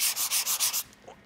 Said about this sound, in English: kind of hit those with your sanding block